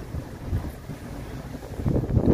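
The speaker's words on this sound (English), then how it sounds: "It's a little windy." Wind blows outdoors in Modesto, California, buffeting the microphone with a steady low rumble that swells into louder gusts toward the end.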